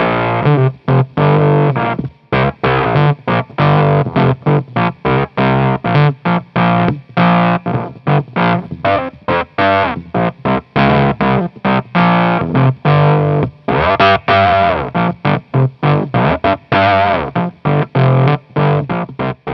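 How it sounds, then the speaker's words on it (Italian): Electric guitar played through an Octavia octave fuzz pedal with its tone control adjusted, giving loud, distorted, ringing notes in choppy picked phrases with short gaps, a thick synth-like octave buzz that stands alone with no voices. "Se utilizziamo dei pedali particolari come ad esempio un'Octavia, con l'utilizzo del tono possiamo ottenere dei suoni fantastici"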